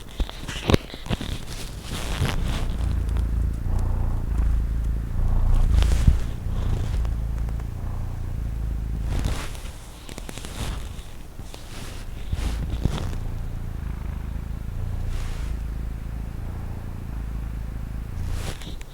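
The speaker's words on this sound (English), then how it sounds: "Let's see if you can hear him purr." A cat purring very quietly up close, a soft low rumble broken by brief rustles and handling noises, with no one talking.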